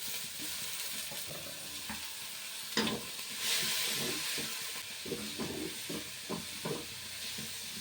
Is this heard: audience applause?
no